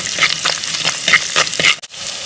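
Crushed garlic, ginger and green chilli sizzle loudly in a hot pan while an oyster roast is cooked, a dense, crackling fry broken by the scrape of a spoon stirring.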